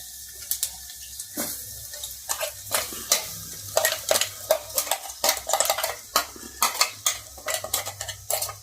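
Ground karonda and coconut mixture tipped into hot tempering in a pan and stirred, giving a quick run of scraping, clinking spoon-on-metal strokes, close and fairly loud, with a faint sizzle underneath.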